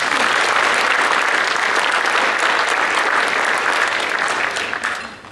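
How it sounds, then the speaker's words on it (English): Loud, sustained applause fills a room at a 2014 chamber of commerce awards banquet, holding steady for several seconds before fading quickly at the end. "A round of applause for Terry."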